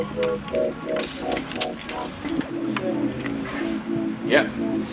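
Outdoors on a sunny day, a person imitates a bird call with a run of short, repeated whistly chirps, then a few more calls and a rising squeak, close and clear amid light background noise.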